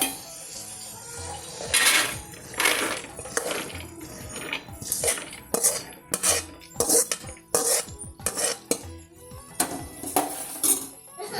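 Roasted ragi (finger millet) being scraped out of a pan onto a plate, with repeated loud metal clanks and scrapes of a spoon against the pan, close up and without talk.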